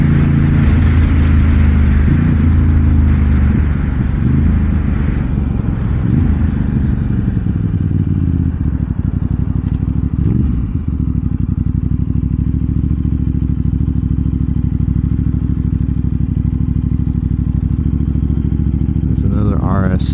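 A 2026 Aprilia RS 660 motorcycle is ridden with a steady, loud engine drone and wind rush, the pitch rising and falling gently through the ride, while a rider talks over it.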